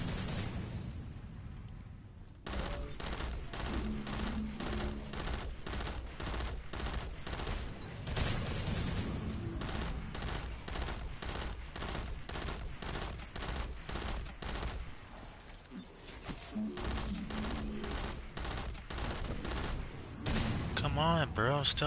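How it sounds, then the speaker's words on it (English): Sustained rapid gunfire in a video game, hammering out fast regular bursts nearly nonstop with brief pauses, as enemies shoot at the player; a voice talks over it. "Stop shooting me."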